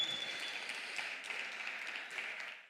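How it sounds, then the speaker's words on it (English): A conference stage audience breaks into applause, a steady wash of many hands clapping at moderate distance, fairly faint and even throughout with no voices over it. "And with this, we can applaud."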